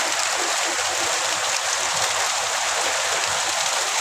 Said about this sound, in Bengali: দেখুন প্রচুর বৃষ্টি।